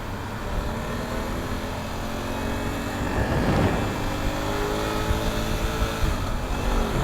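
BMW F 900 GS Adventure parallel-twin motorcycle engine heard while riding, a steady close drone with a rising pitch sweep midway, blended with road and wind noise.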